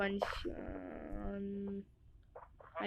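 A sheep in the Minecraft video game, shorn of its wool, lets out a drawn-out bleat that wavers for over a second, with a voice talking just before and after.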